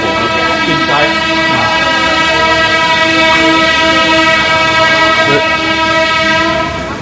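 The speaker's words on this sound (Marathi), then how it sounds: "इथून ट्रेन पण जाता." A train passes near the Grand Palace in Bangkok, its loud sustained horn tone ringing over a constant rolling rumble for the whole stretch, close and dominant.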